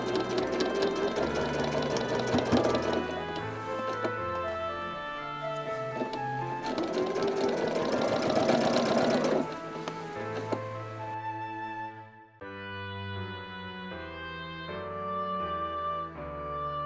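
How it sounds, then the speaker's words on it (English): Quilting heart-block pieces run through a sewing machine, whose steady rapid whirring stitches continue with brief pauses and changes in pitch, close and alone with no talking. "You sew together all the pairs of heart tops."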